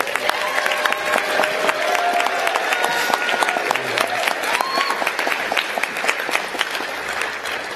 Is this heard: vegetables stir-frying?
no